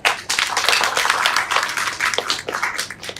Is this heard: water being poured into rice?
no